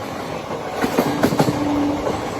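An Indian passenger train near Guntur runs on the rails at cruising speed, giving a steady rumble with rhythmic clickety-clack wheel beats and a brief squeal, heard from inside the coach.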